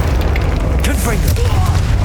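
A Confringo spell explosion in Hogwarts Legacy booms loudly and continuously through the whole short moment, a deep rumbling blast with crackle on top.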